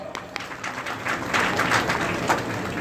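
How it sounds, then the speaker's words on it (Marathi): Hand clapping for a grandmother at a Basavanna Jayanti gathering: a steady patter of claps, like scattered applause, runs for about three seconds at moderate loudness with no speech. "आजीसाठी मी टाळ्या वाजतो."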